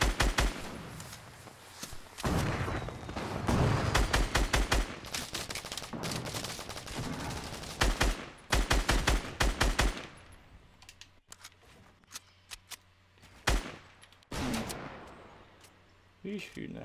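Rapid bursts of gunfire in the Fortnite Battle Royale video game, volleys of sharp shots and rattling sprays trading back and forth for long stretches, then sparser isolated shots, with some quieter gaps between.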